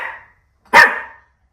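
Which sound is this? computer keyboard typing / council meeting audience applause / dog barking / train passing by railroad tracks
dog barking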